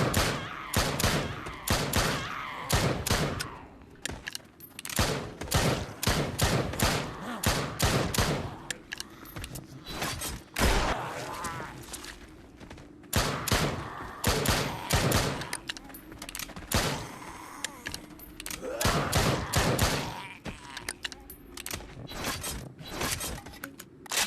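Rapid pistol double-taps and heavier shotgun blasts ring out in a zombie shooter arcade game, dense bursts of sharp shots packed close together with brief pauses, loud and continuous throughout.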